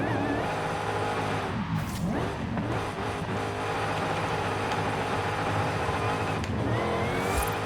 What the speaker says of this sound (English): that supercharger whine too